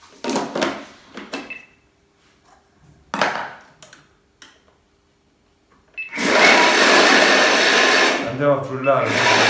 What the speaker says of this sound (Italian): Andiamo a frullare con l'intermittenza.